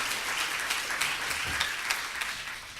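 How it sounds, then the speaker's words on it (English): Conference audience applauding, a steady wash of many hands clapping at moderate distance, continuous and even for about three seconds with a few sharper individual claps standing out. "please clap for that"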